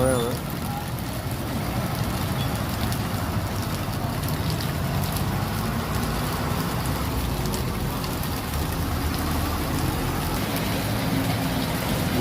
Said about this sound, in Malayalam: ഗംഭീര മഴയാണ്.